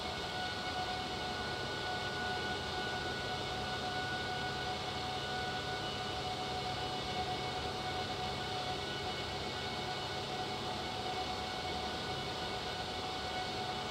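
Airliner engines in X-Plane 12 climbing toward cruise altitude, a steady broadband roar with a faint tonal whine that holds at an even level throughout with no breaks.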